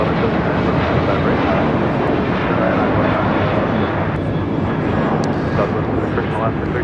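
An airliner takes off from runway 25 right at LAX, its jet engines producing a loud, steady broadband roar that fills the whole stretch, with radio tower chatter faintly audible underneath.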